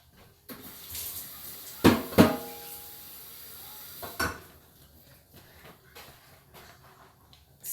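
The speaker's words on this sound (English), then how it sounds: "So I'm just rinsing this because this is what my mom will do." Water runs briefly while a cooking bowl is rinsed during preparation of Ndole, with a couple of sharp clatters of the bowl and faint splashing at moderate distance, then quieter handling noises.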